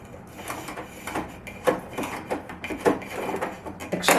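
A repaired vacuum sealer runs with a busy mechanical whirring, punctuated by irregular clicks and clattering pulses, close and fairly loud.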